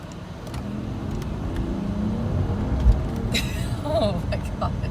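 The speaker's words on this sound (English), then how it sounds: "Like, I barely stepped on the gas. That's how powerful this engine is." A 2007 Mercedes-Benz S600 with a twin-turbo V12 accelerates gently, a low smooth engine rumble building slightly beneath a person talking from inside the car, with a brief thump midway.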